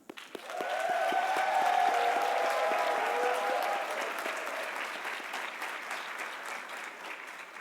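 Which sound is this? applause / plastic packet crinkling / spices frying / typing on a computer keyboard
applause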